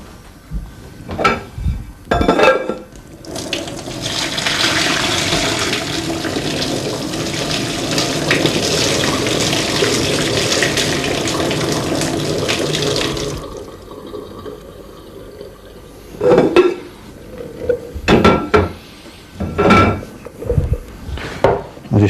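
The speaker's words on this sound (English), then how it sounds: "Right, take them over to the sink. Strain the water off." Water from a pot of boiled carp fishing baits pours steadily into a sink as it is strained off, a loud, continuous splashing rush lasting about ten seconds, with clunks and knocks of handling before and after.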